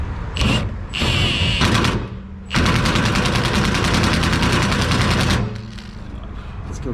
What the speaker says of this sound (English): Let's go for a more robust setting on the impact.